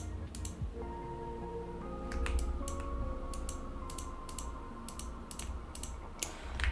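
Computer keyboard keys and mouse buttons clicking in quick irregular bursts while digital fashion is textured in Substance Painter, close and crisp over a low steady hum, with faint musical tones in the background.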